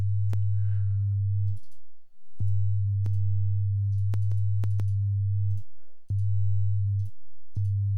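A low, pure synthesized sine tone from Max/MSP sounds in several sustained stretches separated by short gaps, with sharp clicks at the starts from a short attack envelope and some faint clicking throughout.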